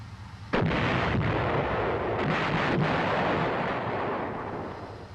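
An M551 armored reconnaissance airborne assault vehicle's main gun fires once as a loud, close blast, followed by a long rumbling roar and wind noise that slowly fade.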